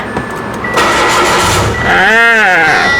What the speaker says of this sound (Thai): ก็แค่กดปุ่มคันนี้ พร้อมเหยียบเบรกนะคะ